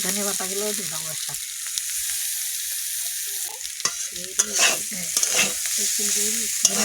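Fish curry stir-fried with coriander leaves in a pan, giving a steady sizzle and repeated scraping stirs with sharp clicks of the utensil throughout, close and fairly loud.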